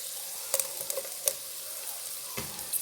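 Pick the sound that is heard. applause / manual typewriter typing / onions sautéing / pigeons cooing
onions sautéing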